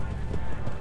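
Horses gallop in a race in a Game of Thrones mod of a video game, a dense, steady rumble of hoofbeats filling the whole moment, loud and close.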